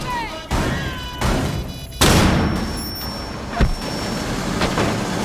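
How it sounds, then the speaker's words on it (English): A flashbang grenade goes off in Rainbow Six Siege with a heavy burst and a lingering ringing wash, after a couple of earlier gunfire bangs, with players talking over it. "Flashbang out."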